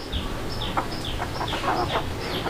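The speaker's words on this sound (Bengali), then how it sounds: "ডিম পাড়া মুরগি তো" An egg-laying hen clucks repeatedly in a series of short calls over steady background noise at a market where pigeons are being sold.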